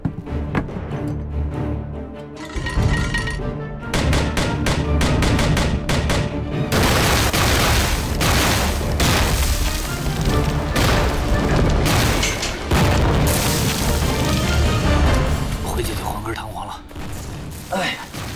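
Artillery shells exploding in a battle scene from a Chinese war film, heavy booming blasts and bursts of gunfire rolling one after another, loud and sustained with a few sharp breaks between them.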